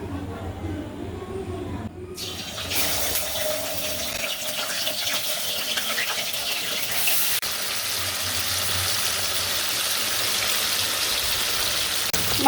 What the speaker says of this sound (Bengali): এবারে মাংসগুলোকে হালকা করে ভেজে নেব।